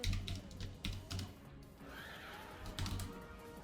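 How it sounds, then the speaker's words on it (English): A horse whinnies in a short, shrill burst, followed by a few hoof clops, played back fairly quietly, from a stored sound effect. "We still have sound effects. The horse is here."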